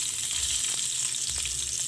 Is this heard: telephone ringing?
no